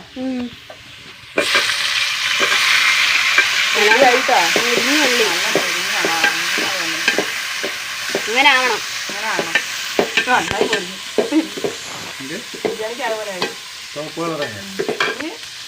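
Chopped tomato dropped into hot oil in a frying pan bursts into a loud, close sizzle that carries steadily throughout, while a spatula scrapes and stirs in repeated quick strokes.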